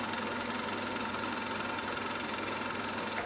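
A sewing machine stitches a fabric headwrap with a steady, close mechanical whirr and fine rhythmic ticking, continuous and even for a few seconds with no talking.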